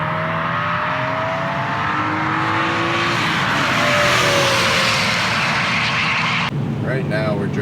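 A BMW E46 M3 engine revs while driving along a twisty old back highway, a loud steady drone that rises and falls with the throttle before cutting off sharply near the end.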